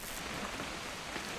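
Rain falls steadily in the video game What Remains of Edith Finch, a dense, even hiss of rainfall with no voices over it.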